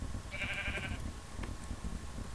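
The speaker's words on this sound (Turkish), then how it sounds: "Koyun." A sheep in the Minecraft video game gives one short, quiet bleat over a low background hum, with no voices.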